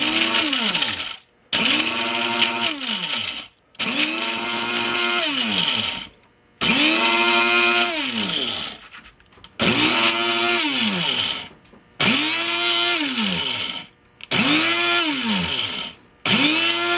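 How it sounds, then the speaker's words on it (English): Electric coffee mill grinding dried peppers, loud whirring motor bursts that pitch up and down, run in about seven pulses separated by brief pauses, with no talking. "I'm going to grind these in the coffee mill so I can get the lid on."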